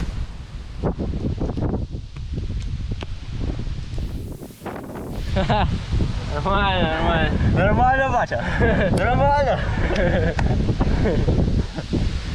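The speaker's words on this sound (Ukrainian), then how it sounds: "Дощ вже стає все сильніше та сильніше. І вітер ще піднімається." Steady wind buffeting and rain noise outdoors at a quarry, with gusty rushing throughout while people talk over it.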